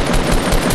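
Rapid automatic gunfire in Fortnite Battle Royale, a dense run of loud, close shots repeating steadily through the whole moment with no talking.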